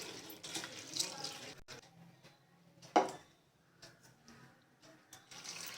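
Toor dal, mustard seeds and cumin are rinsed in water for buttermilk rasam, with soft sloshing and swirling water sounds in a quiet kitchen and a brief louder splash partway through.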